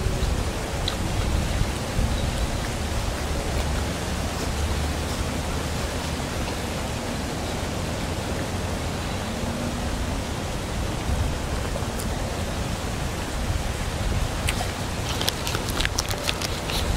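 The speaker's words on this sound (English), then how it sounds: "Rain today here in Michigan." Steady rain falls in Michigan, a dense, even hiss that continues unbroken for the whole stretch, fairly loud and close, with a few brief crackling drops near the end and no voices.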